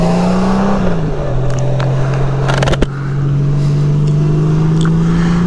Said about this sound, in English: I'm out on my 2018 Honda Goldwing